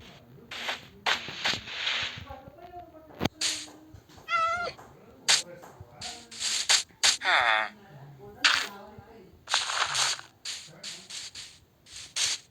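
Repeated Minecraft cat meows, some drawn-out and wavering, sounding bright and synthetic, separated by short pauses, with other game effects between them.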